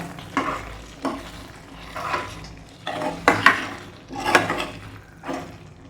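A spoon stirs potato masala with coriander leaves in a pan, making about six rhythmic scraping strokes against the metal with a soft sizzle underneath and no talking.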